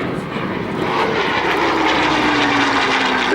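A WWII fighter plane powered by a Rolls-Royce Merlin engine, a type that first flew in 1935 and carried eight guns, flies at a memorial flight display at RAF Cosford. Its piston propeller engine gives a loud, continuous, steady roar throughout.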